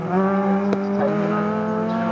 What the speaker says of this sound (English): Here goes that lovely Fina Schnitzer BMW